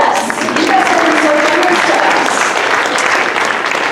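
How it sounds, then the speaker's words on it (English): An audience claps steadily and loudly throughout, a dense wash of applause at a live talk event with no break in the sound. "yeah, please clap"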